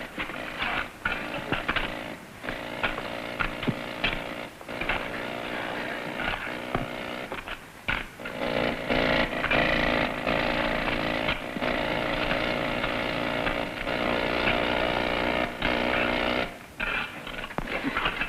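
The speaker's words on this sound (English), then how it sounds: "And remember, be more careful with these drills." Drills run steadily inside a mine, a loud continuous mechanical roar with short dips and restarts throughout.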